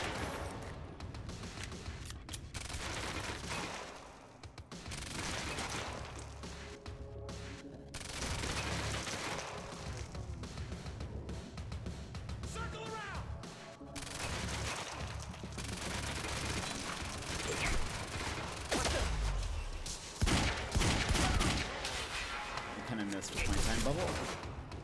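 Gunfire from the video game Quantum Break, with dense bursts and booming shots that run continuously under a player talking throughout.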